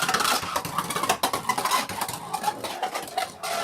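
A Beyblade Burst spinning top launched into a Slingshock Cross Collision stadium: a steady, buzzing whir with scraping rattles as it rides the rails, close and fairly loud, with no talk.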